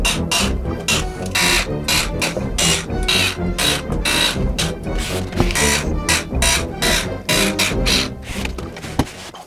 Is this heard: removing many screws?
yes